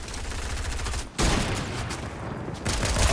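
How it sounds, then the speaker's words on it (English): Rapid bursts of gunfire from the video game Fortnite, a dense crackling fusillade that pauses briefly and then resumes loud and close, with no talk over it. "I'm getting shot at."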